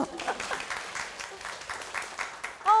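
Studio audience at a televised real-estate lecture gives a short burst of applause, steady soft clapping from a moderately distant crowd that swells slightly at the end.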